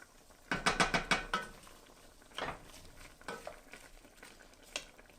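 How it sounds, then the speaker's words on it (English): Brisket pressed down into a pot of apple cider for a one-pot brunch dish, with a quick run of wet squelching and scraping pushes followed by a few scattered softer shifts, close but quiet. "I'm going to push this all down."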